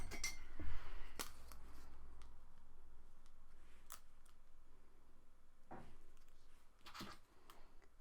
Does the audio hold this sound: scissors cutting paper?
yes